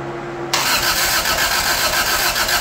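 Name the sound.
car engine cranking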